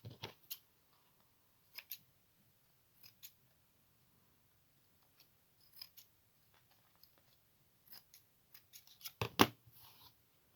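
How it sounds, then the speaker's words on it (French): Scissors snip in short, quiet bursts while cutting a round shape for a vintage lollipop craft, with irregular pauses between cuts and a louder cluster of snips near the end. "je découpe un peu en forme ronde"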